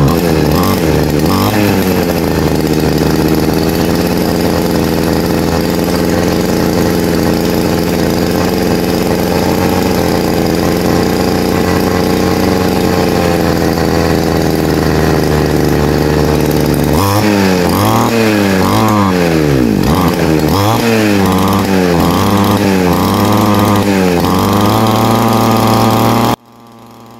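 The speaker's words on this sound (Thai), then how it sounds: "อาการนี้เครื่องเร่งไม่สุดครับเร่งแล้วแบบเหมือนมันทื่อๆอ่ะเร่งทื่อๆมันเร่งไม่สุดครับผม" An RBC411 brush cutter engine runs loud and close, droning steadily before revving up and down in several sluggish surges that never reach full speed, then cutting off at the end.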